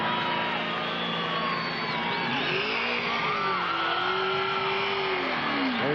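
NASCAR stock cars racing past at Talladega, a dense, loud wall of engine roar with pitch swoops as cars pass, crowd noise and a commentator talking over it.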